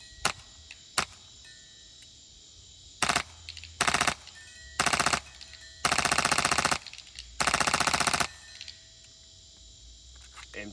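An airsoft gun fed by an air line is test fired close by: two single shots, then several short bursts and two longer bursts of rapid mechanical fire, separated by quiet pauses, with no talking.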